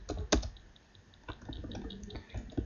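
Keys tapped on a computer keyboard while coding a web page, a few scattered clicks, one sharper strike near the start, close but quiet against a faint room hiss, no talking.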